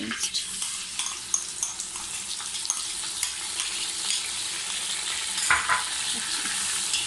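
Steady sizzling of ginger garlic paste frying in a hot pan, with stirring and occasional scraping clinks, continuous and close, no voices.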